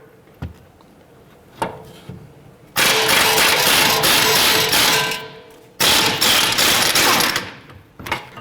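A ratchet with a 22mm socket works loose the forward lower control arm bolt on a 2009-2015 Honda Pilot, giving a few sharp isolated clicks followed by two long bursts of rapid, loud ratcheting clatter close by.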